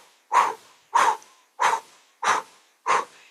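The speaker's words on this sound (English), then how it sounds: "So it'll be a medium forced out breath." Five medium forced breaths blown out through the mouth, evenly spaced about half a second apart, each a close, breathy whoosh that ends in silence, with no talking.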